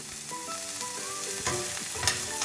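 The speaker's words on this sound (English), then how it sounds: "2 to 3 cloves of garlic, finely chopped. I'm going to stir this well." Finely chopped garlic sizzling in a pan while being stirred, a steady close frying hiss with a few scraping clicks, over faint background music and no voices.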